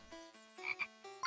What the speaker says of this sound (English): I was purposely quiet so that we could hear the frog noise.